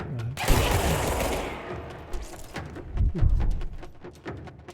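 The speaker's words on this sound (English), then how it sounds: "he hit me with a shotgun" Shotgun fire and combat in the video game Control, a loud sharp blast followed by a burst of rapid gunfire and booming impacts, fairly close and without talk.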